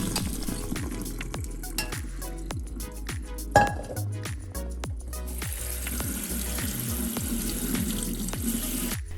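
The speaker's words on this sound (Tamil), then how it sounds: "தண்ணி வடிச்சிட்டு சூடாடுறதுக்கு பச்சை தண்ணி ஊற்றிடலாம்." Cooked pasta drained in a kitchen sink and rinsed under cold tap water, a steady close rush of running water with clinks of a pot or colander, no talk.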